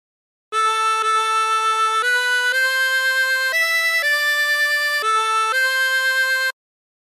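A chromatic harmonica plays the opening phrase of House of the Rising Sun, a steady run of sustained, reedy notes stepping up and back down, loud and alone with no talk.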